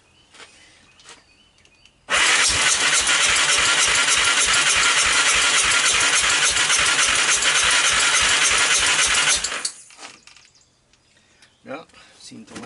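Engine of a 1998 Honda TRX300EX ATV cranking hard on the starter without catching, a loud rapid chugging rhythm running about seven seconds before stopping abruptly, with quieter rattles and faint birds before and after.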